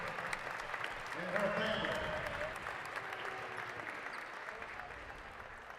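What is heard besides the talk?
applause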